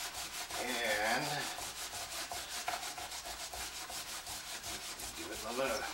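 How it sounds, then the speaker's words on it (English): Paper towel soaked in acetone rubbed hard over Gorilla tape glue on a Gold Hog mat, making rhythmic, close scrubbing strokes in quick back-and-forth repetition throughout. "You put it on there, and you just sit there and rub it."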